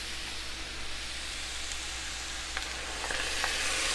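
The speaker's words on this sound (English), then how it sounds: "And then stir it up." Sloppy joe sauce with ketchup simmers and sizzles steadily in a hot pan as it is stirred, a continuous close frying hiss with a few faint scrapes of the spoon near the end.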